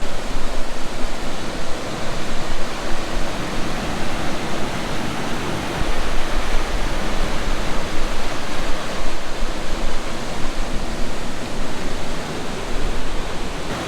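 Dugarwadi waterfall near Nashik, Maharashtra pours in a loud, unbroken roar of falling water, dense and constant throughout with no voices.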